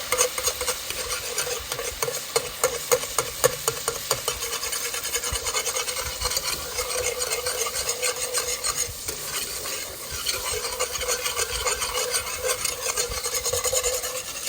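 Alfredo pasta sauce being whisked in a pan, a steady close scraping and stirring with a faint sizzle underneath that runs continuously, no voices.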